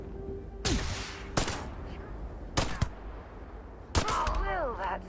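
Four sharp, widely spaced magnum pistol shots ring out in the space shooter Starfield, each a distinct loud crack over a quiet background, with a voice briefly audible near the end.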